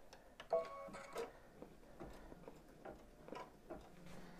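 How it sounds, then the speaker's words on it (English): An embroidery machine stitches fabric pieces for an in-the-hoop dog softie, giving a quiet, rapid, regular ticking and tapping close by with no talk. "now the machine is going to stitch them down and then stitch the ears closed"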